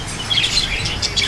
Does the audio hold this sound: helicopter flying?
no